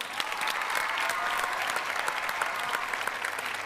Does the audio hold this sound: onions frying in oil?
no